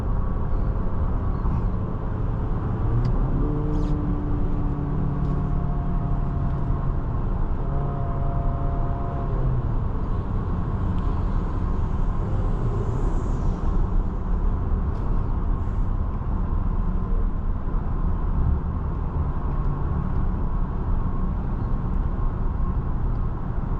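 A 2026 Infiniti QX60 Autograph accelerates smoothly, its steady, muted engine and road hum filling the cabin at an even level throughout, with a faint rising tone early on and no talk.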